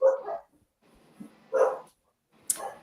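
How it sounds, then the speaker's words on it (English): A big dog barks in three loud, close bursts separated by short quiet gaps, with no talking. "I hear a big doggy"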